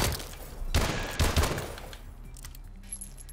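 M1 Irons rifle firing in Advanced Warfare, three sharp, punchy shots in quick succession, then a fading tail and faint game ambience.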